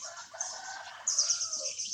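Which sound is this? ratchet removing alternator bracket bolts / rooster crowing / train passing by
rooster crowing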